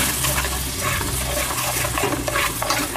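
Water poured into a cooking pot holding rice that was just fried, a continuous splashing, gurgling pour at moderate level that runs for the whole stretch without a break.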